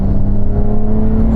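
Loud, sustained engine drone from Nissan GT-R cars pulling hard in third gear from 50 mph in a rolling race, a steady building tone without pauses.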